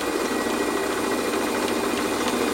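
A metal lathe runs steadily while facing off an aluminium part, a loud continuous mechanical hum and grind with no pauses and no talking.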